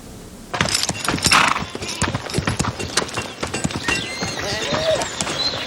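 Horse hooves clip-clopping in a medieval monastery setting, a rapid uneven run of sharp hoof strikes close by, with faint clanking of tack and a brief whinny-like sound among them.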